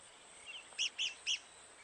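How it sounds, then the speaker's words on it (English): A rare red-cockaded woodpecker calls from a loblolly pine on a military training ground. Three short, sharp, high chirps come in quick succession after a fainter call, clear against quiet background hiss. "The rare red cockaded woodpecker lives in this loblolly pine."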